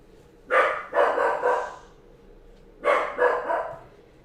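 A dog barks indoors in two short bursts, each a quick run of two or three sharp, fairly close barks separated by a brief pause.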